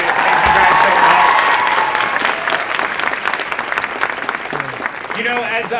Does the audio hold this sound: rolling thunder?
no